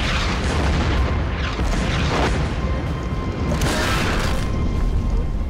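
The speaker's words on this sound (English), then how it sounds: "Non-stop shells hitting in the front, the back, to the left, to the right." Artillery shells burst close by in a dense, loud roar, with heavy rumbling booms coming one after another and hardly a pause between them.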